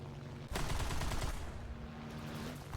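In War Thunder, a Bf 109Z-1 fighter's guns open up with a sudden loud burst of rapid fire lasting about a second, then settle into a steady engine drone.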